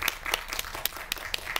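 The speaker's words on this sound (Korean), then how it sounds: "오늘 박수는 뭐 지금 치죠?" Light applause from a small audience at a master class, a sparse run of separate claps rather than a full ovation, fairly quiet and brief.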